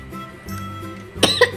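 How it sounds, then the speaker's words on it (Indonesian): A child coughs a few times in quick bursts near the end, close and fairly loud, after a quiet stretch of room noise. "Oh, batuk."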